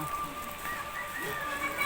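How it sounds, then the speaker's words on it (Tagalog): Steady rain falls through a long rainy day with no sun, a constant soft wash of drops heard close and fairly loud, a faint voice murmuring underneath. "ulan na talaga"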